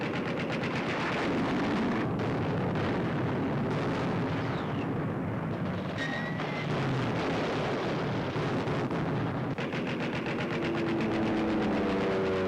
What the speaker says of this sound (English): Opening guns of the American offensive in the South Pacific.